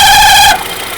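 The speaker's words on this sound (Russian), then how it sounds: "Останавливается двигатель. Двигатель глохнет." A Kia car engine with a whistling, overheated alternator stalls: a loud, close, high whine cuts off abruptly halfway through and leaves a dull rumbling noise.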